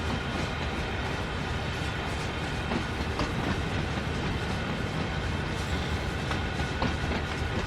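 Train Sim World game audio of a train rolling along rails, a steady broadband rumble with faint rhythmic clickety-clack of wheels over rail joints, continuous and fairly loud with no voices.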